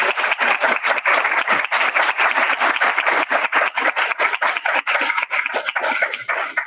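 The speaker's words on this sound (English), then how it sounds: "I want to give our mentors a round of applause" Audience at a research symposium applauding program mentors, steady dense clapping from many hands throughout, close and loud, fading slightly at the end.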